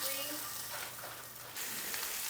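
Meatballs sear in a hot pan, giving a continuous loud close sizzle that dips briefly and then surges back, with no one talking.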